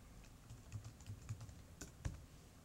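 Quiet clicks of a computer keyboard come in scattered bursts of light keystrokes, close but soft, ending with a slightly firmer tap.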